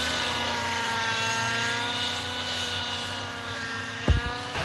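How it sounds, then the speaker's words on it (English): A computer-controlled helicopter flying aerobatic maneuvers gives off a loud, steady rotor and engine drone with sustained tonal whine, plus a brief thump near the end. "what you're seeing today is by far the most difficult aerobatic maneuvers flown by any computer-controlled helicopter"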